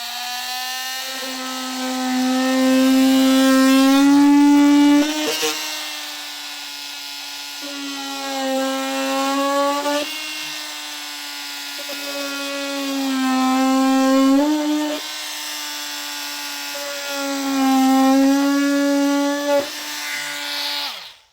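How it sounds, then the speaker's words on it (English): An oscillating multi-tool trims plastic fascia pieces on a 2024 Ford Escape, whining loudly in several sustained bursts separated by short pauses. "Just going to take my multi-tool and get them removed."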